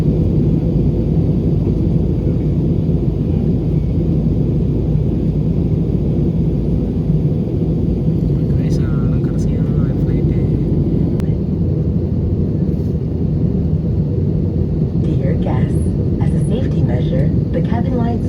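Aircraft cabin noise during a flight, a loud, constant low roar of engines and airflow filling the whole clip, with faint clicks and rustles near the end.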